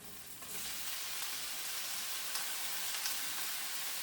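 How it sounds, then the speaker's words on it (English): Celery and beef stir fry sizzling steadily in a hot oiled pan, a continuous close frying hiss that starts after a brief quieter moment and holds evenly throughout, with no talking. "because my pan is hot, you can tell, and when I add in the oil, I don't need to wait very long"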